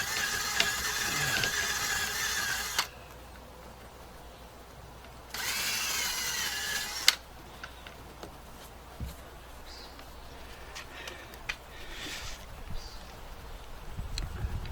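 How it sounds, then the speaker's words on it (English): Power drill reaming out a drilled hole during pre-launch prep of a Nordica 16 sailboat, two loud bursts of high-speed whirring separated by quieter handling noise and light knocks. "There, we've broken through. Ream that out a little bit."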